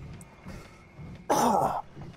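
A person clears a frog from their throat with one short, harsh rasp that stands out clearly against quiet background noise. Nobody speaks.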